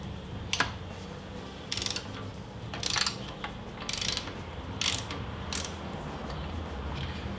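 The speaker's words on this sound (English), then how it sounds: "Once it starts to get loose, you can take the ratchet off and just turn it by hand." Ratchet and socket loosening a spark plug on a Yamaha XVS650 motorcycle, heard as several short bursts of clicking spread across the clip over a low steady background hum, fairly quiet and close.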